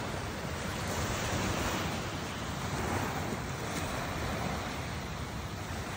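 Steady roar of sea waves washing onto a beach at 6 a.m., continuous and fairly loud, with a wind-like hiss and no voices.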